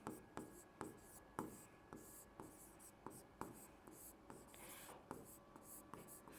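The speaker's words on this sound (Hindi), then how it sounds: "यहाँ पर लिख देती हूँ" Handwriting while teaching a lesson, likely chalk or marker on a board: a series of short, regular scratchy strokes, close and fairly faint, with no talk over it.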